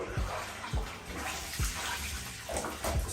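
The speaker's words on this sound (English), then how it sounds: "make sure it's agitated, moving the water around." Selvedge denim jeans, APC Petit New Standard, are pushed and agitated in a bathtub of water, giving several soft, low sloshing surges at an irregular rhythm, close and moderately quiet.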